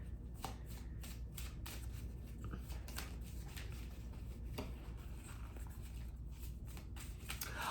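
Oracle cards being shuffled by hand in quick, soft riffling bursts, then one card drawn from the deck, heard close and quiet with no talk.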